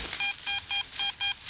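A telephone emits a steady series of identical electronic beeps, five evenly spaced tones in a regular on-off rhythm, fairly faint with a hiss of background noise and no voices.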